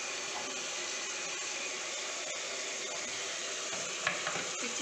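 Chopped ingredients fry in hot tempering oil for chicken biryani, a soft continuous sizzle with faint stirring scrapes and a small clink near the end. Quiet and steady, with no voices.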